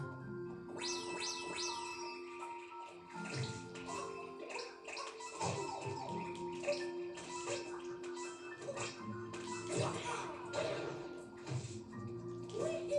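Watery game sounds from a water level in the video game Super Mario Odyssey bubble and splash continuously at a moderate level, with game music and a voice talking over them.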